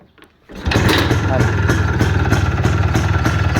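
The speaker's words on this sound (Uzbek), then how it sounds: "Mana mototsikl ovozi aka." A repaired motorcycle engine catches after a brief quiet moment and settles into a loud, even idle. The close, rhythmic putter of the idle holds steady to the end.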